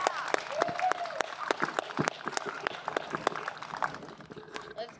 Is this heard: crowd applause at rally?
yes